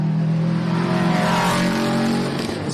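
Rally car at full throttle speeding past spectators on a Gippsland Rally stage, a loud, close engine roar with rising then falling pitch as it passes.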